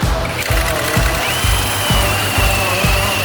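A ROWEL DBD160 cordless impact drill bores into fairly hard soil. It hammers in steady, regular low thumps, roughly two per second, under a constant motor whine, loud and close.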